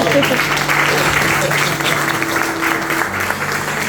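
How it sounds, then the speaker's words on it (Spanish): A church congregation applauds during a Spanish-language worship service, a dense, steady wash of clapping that lasts throughout, with a low sustained tone underneath. "Denle un aplauso al Señor."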